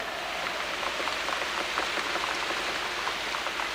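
Steady rain falls throughout in a dense, even hiss with many small drops pattering on a surface, no voices present.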